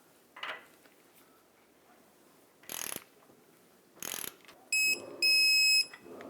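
A ratchet tightening the front lower ball joint mounting nut on a 2008-2012 Honda Accord, in three short bursts of rapid clicking close up, followed by brief high electronic beeps.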